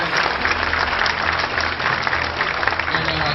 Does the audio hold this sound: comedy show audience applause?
yes